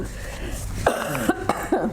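Several short, harsh coughs in a row, close to the microphone at a borough council meeting and fairly loud, over a low steady background hum.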